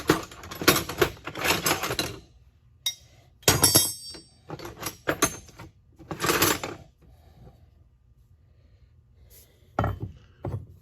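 Metal screwdrivers, an Irwin among them, clink and clatter as they are sorted by hand at a yard sale, coming in several bursts of close, bright rattling with quiet gaps between.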